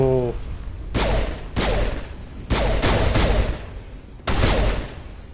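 Bursts of gunfire from a weapon in the video game Mass Effect, four loud separate volleys of rapid shots with short pauses between them and a strong low thump under each burst.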